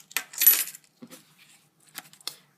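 A keyring holding house keys and a small compass is handled, giving a few light metallic jingles and clinks in short bursts, close and fairly quiet, separated by pauses.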